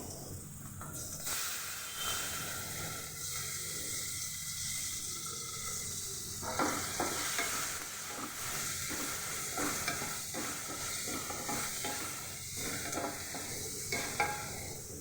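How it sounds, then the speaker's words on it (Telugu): Onions frying in a pan for an egg and potato fry, with a steady close sizzle and hiss and repeated scraping stir strokes from the midpoint onward, no voices. "కొంచెం బ్రౌన్ కలర్ వచ్చేదాకా చూసుకుందాం. ఆనియన్స్ కొంచెం ఫ్రై అయిపోయింది."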